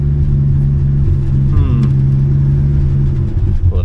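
A 1967 Plymouth Valiant engine runs roughly as it struggles to idle, a loud steady low drone with a brief higher whine partway through, while people talk nearby.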